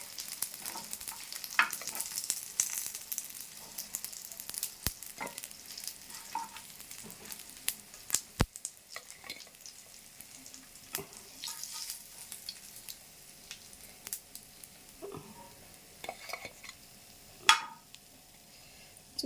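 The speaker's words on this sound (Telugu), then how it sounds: "ఎంత చక్కగా ఫ్రై అయిపోయినాయో, ఎంత బాగున్నాయో" Dried fish frying in a pan, a soft continuous sizzle with scattered stirring scrapes and clicks, one sharp knock partway through, faint and close with no talking.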